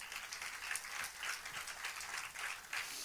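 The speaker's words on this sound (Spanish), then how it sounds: "Dale un aplauso al Señor." A church congregation applauds steadily, a dense wash of clapping that sounds somewhat distant and stays even throughout.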